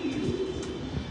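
Racing pigeons coo softly inside a loft, low murmuring calls overlapping in a brief continuous burble at moderate distance, with no voices.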